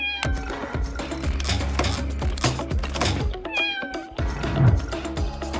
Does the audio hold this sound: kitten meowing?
yes